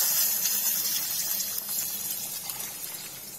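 Hot water poured from a pot into cooked dal for dal baati in a home kitchen, a steady close gushing splash that runs continuously and eases slightly toward the end.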